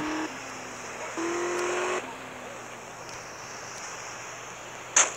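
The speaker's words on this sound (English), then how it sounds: "Sounds like a car going backwards if you dig." A car engine in GTA Liberty City Stories, reversing, whines at a steady glitchy pitch that steps up and down in short segments, with a sharp click near the end.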